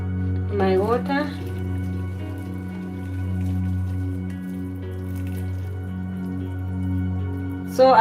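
Water pours and drips into a pot of ramen made as spicy budae-jjigae, a soft trickling over a steady low hum that runs throughout.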